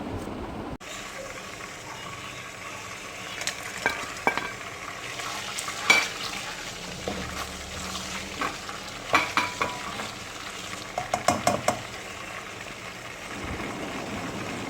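Whole spices, bay leaf and cloves, sizzle in hot oil in a pan, a steady frying hiss with occasional stirring clinks and scrapes, close and moderately loud, no talking.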